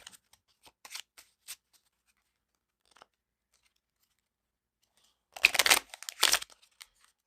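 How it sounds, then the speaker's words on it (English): A spectator shuffles a deck of playing cards: a few soft scattered riffles and taps, then two loud, close bursts of rapid riffling near the end, with no talk. "the spectator is welcome to shuffle the cards as much as they like"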